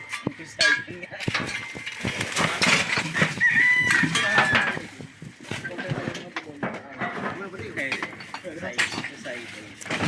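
Chickens cluck and squawk busily nearby, with what sounds like a rooster crowing amid the clamor, while people talk and occasional clatter sounds.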